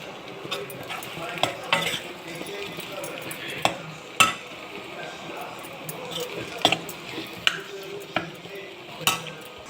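Stuffed okra (lady's finger) with a spiced filling and turmeric fries in a pan, a steady low sizzle broken by sharp clinks and scrapes of a spatula stirring at an uneven pace, close and moderately loud.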